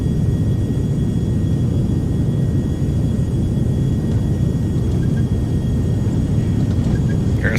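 A Beechcraft Premier 1A business jet runs its engines at high power for takeoff in the X-Plane 11 flight simulator. A loud, steady roar and rumble holds throughout, with a faint whine on top.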